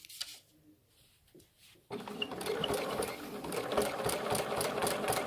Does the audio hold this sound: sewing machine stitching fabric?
yes